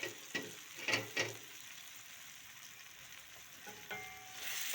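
Tomatoes frying in a pan for a kaleji and pota dish, a faint, soft sizzle with a few brief stirring scrapes near the start.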